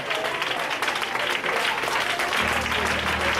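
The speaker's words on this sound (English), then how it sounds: "Clap your hands, O ye people, and shout unto God with the voice of triumph." A church congregation claps hands together in a sustained burst of applause, and a low hum rises underneath toward the end.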